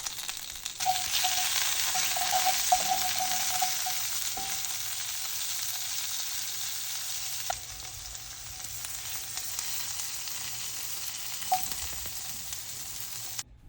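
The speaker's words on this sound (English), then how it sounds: "Then we'll want to lightly sear our asparagus." Asparagus being lightly seared in a hot pan while cooking Merlot braised short ribs, a continuous close sizzle with occasional soft clicks and stirring sounds, with no voices.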